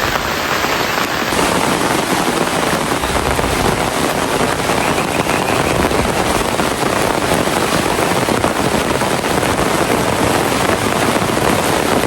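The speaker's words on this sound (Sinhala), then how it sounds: "වැස්ස නම් අඩු කරන පාටක් නෑ." Heavy rain pours down outdoors at a nature spot, a dense, loud, unbroken roar of drops hitting surfaces that holds steady throughout.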